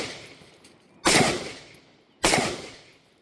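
An AR rifle fires two sharp, loud shots about a second apart, each cracking and then fading into a short decay, with no talk.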